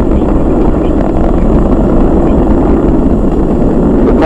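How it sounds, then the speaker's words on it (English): SpaceX Falcon 9 rocket engines roar during a crew launch as the vehicle throttles down before maximum dynamic pressure, a loud, continuous, broadband rumble with no pauses. "We're throttling down to get ready for the period of maximum dynamic pressure."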